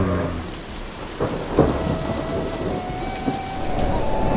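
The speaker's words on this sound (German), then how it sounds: "schaut mal, wie es da hinten regnet" Rain falls steadily in the mountains of Bosnia-Herzegovina near Lukomir. Deep thunder rumbles and cracks through it, and the downpour hisses on without a pause and with no voices.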